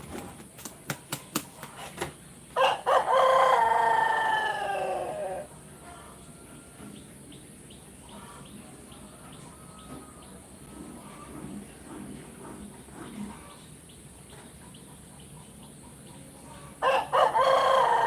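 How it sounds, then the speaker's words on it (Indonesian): Rooster crowing in the morning outside a home in Indonesia, two loud crows a few seconds apart with the second starting near the end, over quiet household background and faint distant sounds. "di sini mah pagi-pagi teh suara ayam jago"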